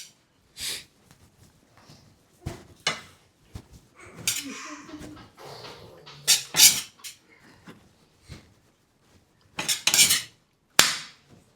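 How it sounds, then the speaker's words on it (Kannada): Puliyogare gojju being mixed by hand into cooked rice in a vessel, giving scattered clinks and scrapes, soft squelching bursts and short knocks with pauses in between. "ನಾವು ಪುಳಿಯೋಗರೆ ಗೊಜ್ಜನ್ನು ಹಾಕಿ ಒಂದು ಅಂದಾಜಲ್ಲಿ ಹಾಕಿ ಕಲಿಸ್ತೀವಿ ಈಗ"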